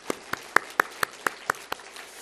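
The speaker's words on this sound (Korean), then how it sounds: "우리 영광의 박수를 하나님께 드리도록 하겠습니다" Congregation in a church clapping together after a choir's hymn, a sparse run of about eight distinct claps at a steady rhythm, moderately close, fading out with no talk.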